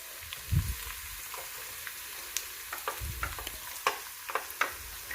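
Chopped onions go into a hot pan for a dhaba-style aloo keema and fry with a steady sizzle, broken by scraping thumps and clinks as a spoon stirs them up close.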